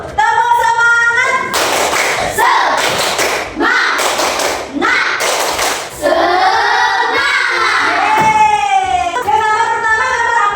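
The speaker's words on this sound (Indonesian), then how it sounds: "Sebelum kita belajar, kita tepuk semangat dulu." Elementary schoolchildren in a classroom perform a rhythmic spirit clap, with bursts of patterned hand claps and slaps alternating with children chanting and singing together loudly in unison.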